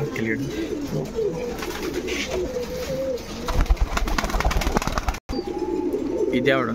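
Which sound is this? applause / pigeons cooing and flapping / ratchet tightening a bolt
pigeons cooing and flapping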